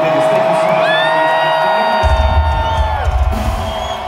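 Concert crowd at a metal show in San Antonio, Texas, cheering and whooping loudly in a sustained roar, with shrill whistles and yells rising over the noise and a deep rumbling swell near the middle.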